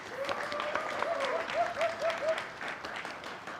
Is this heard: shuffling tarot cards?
no